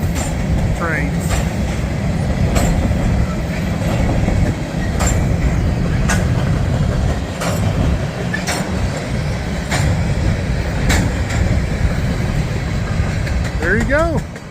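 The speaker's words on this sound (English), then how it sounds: "Norfolk Southern hopper car train." A westbound Norfolk Southern freight train of hopper cars rolls past steadily and loudly, with wheel rumble, rhythmic clicks and faint squeals running continuously; a few voices can be heard underneath.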